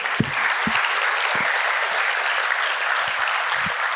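Round of applause from the audience at a developer summit opening, steady dense clapping throughout with a few low thumps mixed in, sustained and fairly loud.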